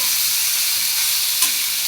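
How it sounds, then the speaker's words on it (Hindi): Amla gooseberries tossed in a hot pan give a dense, steady close-up sizzle, with a brief scraping stir near the end. "आंवले डालकर हम इसे अच्छे से मिक्स कर लेते हैं"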